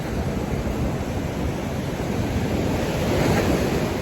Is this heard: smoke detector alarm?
no